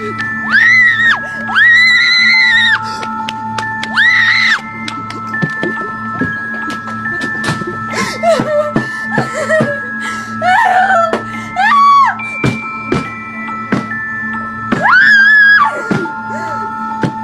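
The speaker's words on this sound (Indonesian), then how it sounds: "dikejar sama Jeff the Killer dan menjerit histeris ketakutan" Frightened, hysterical screaming as if fleeing a horror killer, with repeated high wailing shrieks and whimpers, loud and close, broken by short pauses and mixed with clattering noises.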